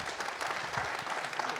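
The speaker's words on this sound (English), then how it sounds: "Please join me in giving a round of applause" Audience applause at a youth summit session, a brief, fairly faint wash of many hands clapping steadily in a large room.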